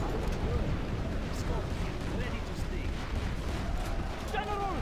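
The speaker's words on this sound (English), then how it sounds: "General, a nuclear missile has been released." Continuous low rumbling roar of a nuclear missile strike in C&C Generals Zero Hour, steady and heavy throughout, with faint higher crackles and whistles layered on top; voices are present.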